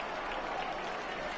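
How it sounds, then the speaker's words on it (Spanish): Steady applause from a distant stadium crowd in the stands at a Cobreloa football match, a broad, even patter of many hands. "Aplausos de las galerías."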